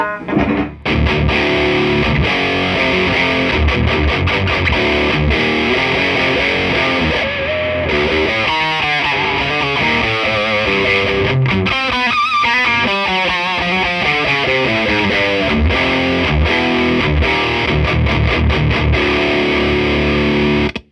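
Heavily distorted electric guitar through diode clipping distortion, playing continuous chords and riffs, loud and saturated with a gritty, clipped edge throughout.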